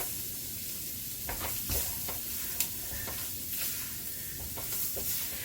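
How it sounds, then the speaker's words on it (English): Chopped onions hitting a dark roux in a pot while making gumbo give a steady close sizzle and hiss, with stirring scrapes and a few louder bursts as more are added. "Let's throw in some onions."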